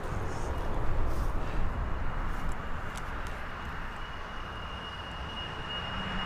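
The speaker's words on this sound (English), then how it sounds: "KLM back off to Amsterdam." KLM airliner departing Birmingham Airport for Amsterdam, a steady broad jet roar at moderate distance that slowly fades slightly over the few seconds.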